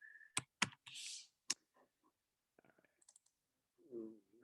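A computer keyboard gives a few sharp, close clicks of a Command O shortcut, followed by faint scattered taps in a quiet room.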